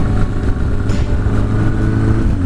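A motorcycle carrying two riders cruises along a road with a loud, steady engine drone and wind rumble, no talk.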